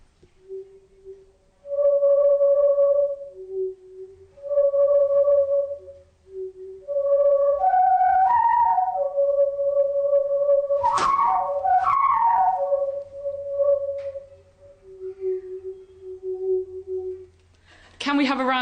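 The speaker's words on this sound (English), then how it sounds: "Wendy from Science Made Simple plays us a tune with a pink pipe." A pink plastic tube pipe plays The Last Post in a science-of-sound demonstration, breathy whistle-like tones stepping through the melody with held notes and short pauses, closing on a higher wavering stretch.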